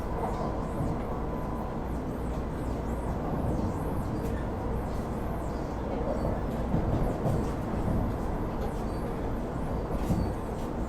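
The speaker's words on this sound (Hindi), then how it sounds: "अपनी ट्रेन जो है लगभग 130 की रफ्तार में" A Vande Bharat Express chair car on the New Delhi–Varanasi run, travelling non-stop at about 130 km/h, heard from inside as a loud, continuous rail rumble and rattle that stays steady throughout.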